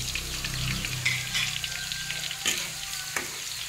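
Garlic sizzles and spatters in hot cooking oil, a steady close frying crackle with a few scraping stirs and brief clicks partway through.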